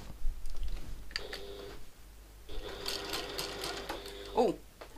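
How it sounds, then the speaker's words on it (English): A sewing machine stitching a Super Nova satchel runs in bursts, stitching up, back stitching and pivoting, with mechanical rattling starts and stops and a short clack near the end, heard up close. "I'm going to sew from the bottom up to the top, back stitch, pivot, and sew back down to the bottom."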